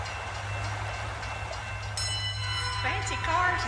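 Steam train at Prescot railway station rumbling steadily nearby with a constant low drone, wheel and rail noise building after two seconds and squealing tones near the end; no speech.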